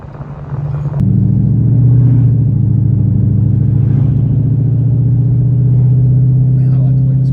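A naturally aspirated car engine idles and rises in revs, a steady close mid-low drone with tonal harmonics swelling after a sharp onset, running continuously throughout.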